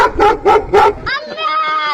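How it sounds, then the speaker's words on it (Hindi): Three short, loud dog barks in quick succession, followed by a higher, warbling cartoonish voice or chatter. "उसके पेट से कुत्ते का आवाज आने लगी"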